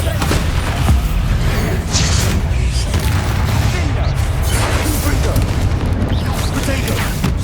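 A Bombarda spell in Hogwarts Legacy detonates among continuous rumbling booms and crashing debris. The din is loud and dense throughout and never drops to quiet.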